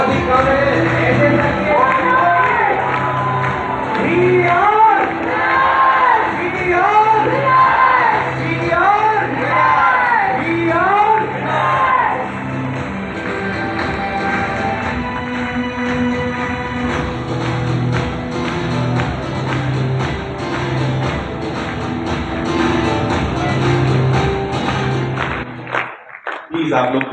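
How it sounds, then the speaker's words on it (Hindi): Crowd at an indoor institute event cheering, whooping and clapping for a standing ovation, a loud sustained roar of voices and applause that thins out over the later part, with a brief drop near the end. "तालियां बहुत ही कम है,"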